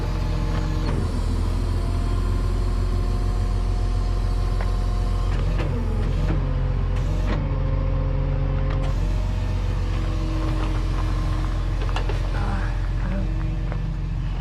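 Tow truck pulling forward with a Subaru held on its wheel lift in a wooded spot, a continuous loud engine drone with mechanical clunks and creaks throughout.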